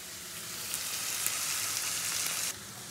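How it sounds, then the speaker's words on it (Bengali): Chopped onions fry lightly in oil for biryani beresta, a steady, close hiss and sizzle that holds evenly for a few seconds, then drops a little as the heat or stirring eases near the end. "আর পেঁয়াজ আমি এখানে সব কুচুরি পেঁয়াজটা দিয়ে নিয়ে একটুখানি রেখেছি, এটা দিয়ে একটু হালকা করে একটু বেরেস্তা করে নেবো"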